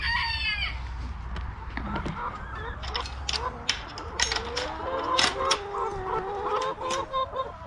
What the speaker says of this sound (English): We're going to take care of the chickens first.